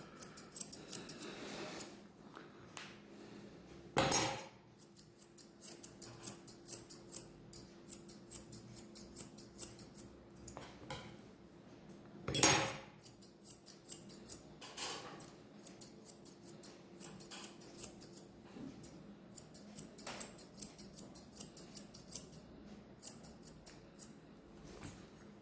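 Grooming scissors snip steadily through a Bichon's coat in quick, crisp repeated cuts close by, with two louder clattering knocks standing out among the snipping.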